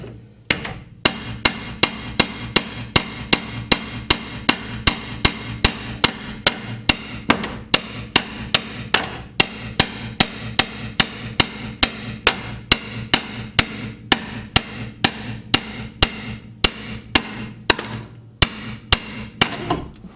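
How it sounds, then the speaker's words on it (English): Steady, rapid metallic hammer blows strike a suspension arm on a 2012 Jeep Compass, dozens of sharp, close, evenly spaced impacts repeating for about twenty seconds with a low hum beneath. "Bigger the hammer, the better."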